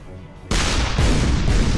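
A 3D bomb blast in the artillery game Shellshock Live, a sudden loud boom that cuts in after a quiet moment, followed by a second rumbling burst that carries on to the end.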